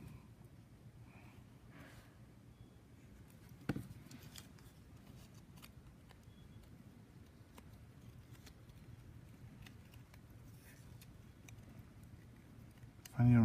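Blade cutting slots into a printed paper Cubeecraft model of Gremlin D.Va, quiet intermittent snips and scrapes close to the mic over a low hum, with one sharper tap partway through and a louder knock at the end.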